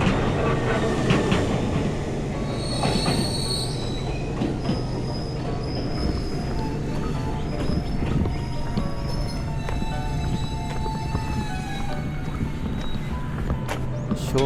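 An Enoden electric local train rumbles past nearby on the Enoshima line with a steady clatter and high metallic wheel squeals, continuous and fairly loud throughout.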